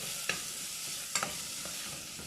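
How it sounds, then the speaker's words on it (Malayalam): Onions sautéing in oil in a pan for Kerala-style potato masala, giving a steady soft sizzle with a few sharp spatula scrapes and stirs, close and fairly quiet, with no voices. "സവാളയുടെ കളറ് മാറുമ്പോഴത്തേന് അതൊരു ട്രാൻസ്ലൂസൻ്റ് ആവുന്നിടം വരെ നമുക്കിത് വഴറ്റണം"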